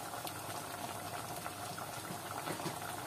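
Meat broth for plov bubbles at a rolling boil in a pot, a dense, soft, continuous burble heard close up with no talk.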